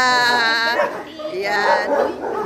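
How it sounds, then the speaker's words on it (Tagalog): Several pet dogs bark, yip and whimper close by while people talk over them at a family birthday gathering. "Sabi ni Kring, maingay yung mga aso namin"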